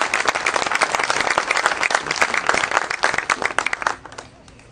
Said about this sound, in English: Let's give the band, of course, a round of applause for letting us be here once again.